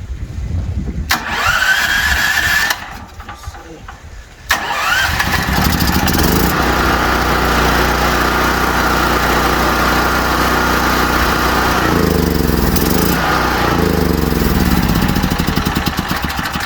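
A Firman Tri Fuel 7500 watt generator running on gas is pulled to a start after a few brief cranking attempts, then settles into a loud, steady, close engine drone that continues unbroken.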